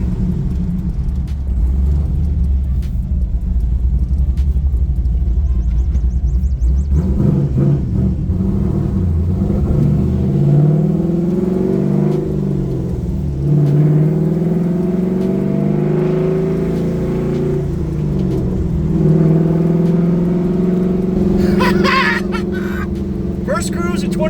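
The LS3 V8 of a six-speed-swapped 1969 Camaro on QA1 suspension rumbles low and steady while cruising, then its pitch climbs and falls as it accelerates, under a voice talking.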